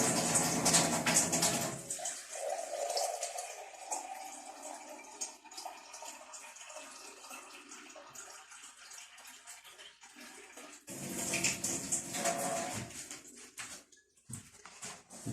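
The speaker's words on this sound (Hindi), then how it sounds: "टुटी चलावांगे।" A kitchen tap runs water into a cup for kneading dough. A loud gush at the start fades to a quieter, steady flow, then a second strong burst comes before stopping.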